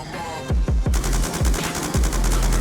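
An LMG in a video game fires in short rapid bursts, loud and close, with sharp repeated reports and brief pauses between volleys.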